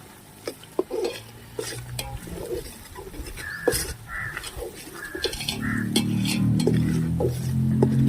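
A spoon stirs garlic-coconut paste frying in oil in a pot for village-style mutton curry, with repeated scraping and clinking strokes at first, then a steadily building sizzle that fills the second half.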